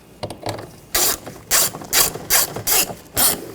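A ratchet tightening screws on the front exterior door handle of a 2014-2020 Nissan Rogue: loud, close clicking bursts, roughly six quick back-and-forth strokes with short pauses between them.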